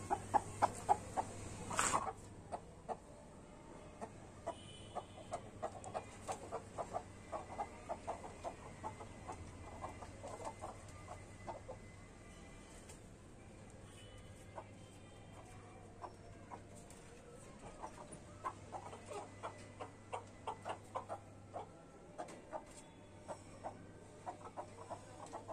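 Hens cluck quietly and intermittently over a low, steady hum, with scattered soft pecking sounds throughout.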